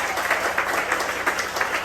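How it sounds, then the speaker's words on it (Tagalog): A church congregation at a Jesus Miracle Crusade anniversary service in Bacnotan, La Union applauds in a steady, dense wash of clapping that holds evenly from start to finish, with no voices over it. "Ang hina naman ng palakpak ninyo."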